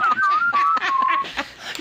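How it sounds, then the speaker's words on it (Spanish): A radio gives a thin, wavering whistle that slides in pitch over faint background chatter, fading out partway through. "Y mientras tanto el radio estaba silbando."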